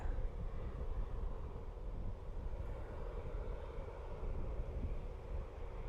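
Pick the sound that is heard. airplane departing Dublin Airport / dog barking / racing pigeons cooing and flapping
airplane departing Dublin Airport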